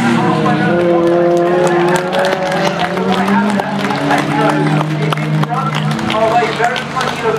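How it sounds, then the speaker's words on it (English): Peugeot 205 race car in a club circuit race, braking hard with wheels locked into the final corner, its engine and tyre scrub loud and close under continuous commentary. "That's not engine problems, that's a very locked up David Cox coming into the final corner"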